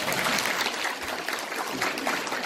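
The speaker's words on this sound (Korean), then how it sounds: "박수 한번 주세요." Audience at a seminar and general assembly claps steadily, a dense even patter of many hands heard from a moderate distance.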